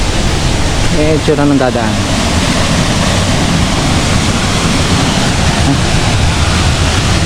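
Talay Falls waterfall roars as a loud, continuous broadband rush, heard up close, with a person speaking briefly over the water.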